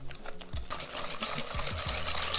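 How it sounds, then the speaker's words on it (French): Dry ingredients of cornstarch, sugar and flour are whisked together in a bowl, giving quiet, rapid scraping and tapping strokes at low volume. "Donc en premier, on va mélanger nos produits secs."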